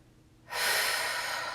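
A single breathy, close exhale during a yoga session starts abruptly after a brief hush and continues as a soft, even rush of air; no talking.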